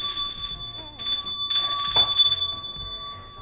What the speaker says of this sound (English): This is the bell.